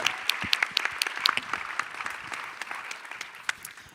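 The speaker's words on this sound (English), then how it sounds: "Let's give them a big applause." Festival audience applauding a creative conversation session, a steady wash of clapping with sharp individual claps standing out, fairly close and sustained for about four seconds without talk.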